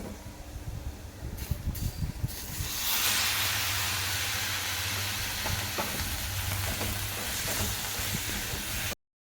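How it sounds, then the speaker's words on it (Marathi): Tomatoes hit hot oil with spices for a Maharashtrian red tomato chutney. A few spoon clanks come first, then a loud, sustained hissing sizzle erupts and holds steady until it cuts off abruptly, with no speech. "टोमॅटो आपण छान परत एकजीव करून घेऊयात, 2 मिनटं परतून घेऊयात"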